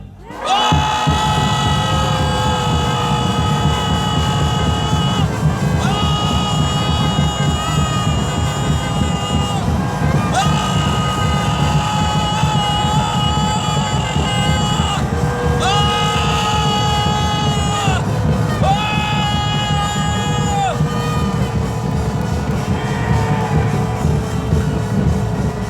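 A large outdoor political rally crowd roars and shouts loudly and without a break for about twenty-five seconds, a dense wall of massed voices with higher whistles and cries rising above it.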